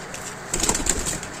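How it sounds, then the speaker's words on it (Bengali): Giribaj pigeons in a loft give soft cooing and rustling, a brief close murmur of birds with slight movement sounds. "এটা গিরিবাজ পায়রা, কোনো ম্যাড্রাস না।"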